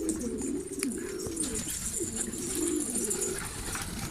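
Pigeons coo softly on a sunny rooftop, a low continuous burbling chorus from several birds nearby, with faint chirps and light rustling and no talking.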